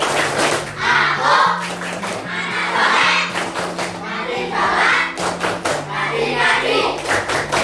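Rhythmic clapping and thumping keep a steady beat while voices chant together in a fifth-grade Islamic religious education classroom, loud and close throughout.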